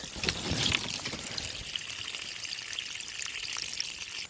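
Fresh water draining out through an opened drain plug, a continuous hissing, splashing stream close by, slightly stronger at the start and then steady.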